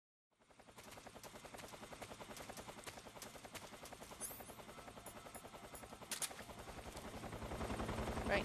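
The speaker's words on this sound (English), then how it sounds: "there is a chopper in this area, so just be aware" Rotor thumping of a helicopter in the video game Metal Gear Solid Snake Eater, a steady loud chop that holds throughout and builds slightly toward the end, with a few sharp game sound effects mixed in.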